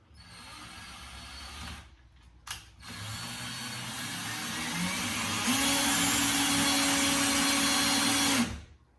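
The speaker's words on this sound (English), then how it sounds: "I'm just going to try to drill it in. Screw it in right here." A power drill whirs in bursts, pausing briefly, then runs steadily and rises in pitch as it drives a screw into soft wood, stopping abruptly at the end.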